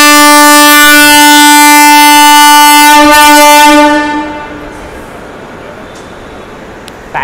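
Siddhaganga SuperFast Express train departing toward Dharwad, sounding a long, loud multi-tone horn that holds steady for about four seconds, then cuts off, leaving a quieter rumble of the moving train.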